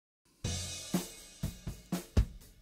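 Drum overheads mixed with the kick drum track: a cymbal-heavy kit playing a sparse beat with about six hits, each deep thump topped by bright, washy cymbal and snare crack, close and punchy with no talk.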